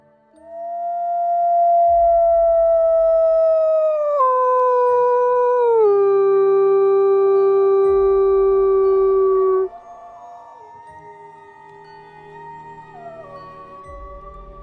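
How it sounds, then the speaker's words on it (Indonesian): A long, loud howl of an asu baung, a ghostly dog-like creature, serves as a horror story sound effect: a sustained wavering wail that slowly drops in pitch, then fades into a quieter trailing howl. "Auman panjang asu baung itu terdengar dari kejauhan."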